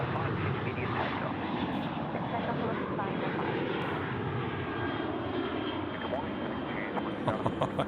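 An airliner taking off at Sydney Airport, a steady loud jet engine roar holding evenly throughout at a moderate distance, with no speech over it.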